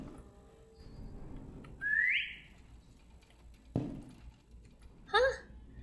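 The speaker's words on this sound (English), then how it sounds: "It sounds like your best friend whistled back." A rising whistle rings out in the ship-exploration game Lazaret, followed a few seconds later by a brief warbling answering whistle over a low ambient hum.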